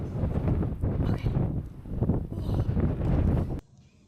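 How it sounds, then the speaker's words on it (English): Strong, cold wind buffeting a microphone outdoors in Iceland, loud gusty roaring that rises and falls for several seconds before dropping away suddenly. "Today is really windy and cold"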